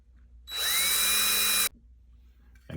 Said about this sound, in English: And now, we're ready to drill.